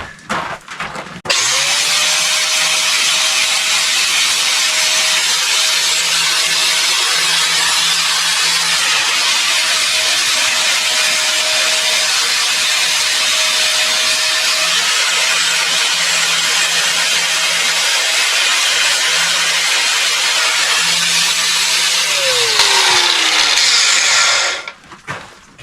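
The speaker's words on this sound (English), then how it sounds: "I'm just going to use a sanding disc" A power sanding disc whines and grinds steadily against antler for a long stretch, loud and close, with shifting pitch as pressure changes.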